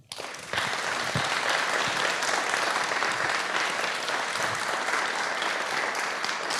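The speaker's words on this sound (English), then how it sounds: "Big applause" Sustained audience applause at the close of a debate on feminist leadership in humanitarian response, a dense, steady wash of many hands that starts abruptly and carries on evenly at full strength with no speech over it.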